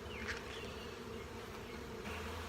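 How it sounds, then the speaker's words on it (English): A dense, steady drone of honeybees buzzing at a beehive, heard close and continuous, with a few individual bees flying past the microphone. "Lots of bees. Lots of babies. Lots of bees, obviously."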